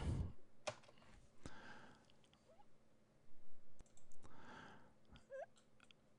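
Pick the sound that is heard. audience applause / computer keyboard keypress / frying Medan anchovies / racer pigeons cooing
computer keyboard keypress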